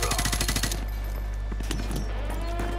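Rapid automatic gunfire from Call of Duty Modern Warfare 2: a dense, loud burst of shots that stops abruptly, followed by scattered single shots and rumbling battle noise.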